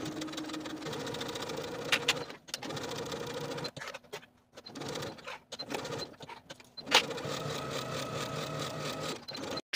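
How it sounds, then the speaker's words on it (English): A domestic sewing machine stitches the side and bottom edges of a dress with a 3/8 inch seam allowance, running in steady close whirring, rapid mechanical runs that pause and restart a few times, without voices. "Sew the side and bottom edges with a 3/8 inch seam allowance."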